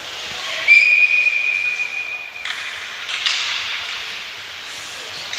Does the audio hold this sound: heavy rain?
no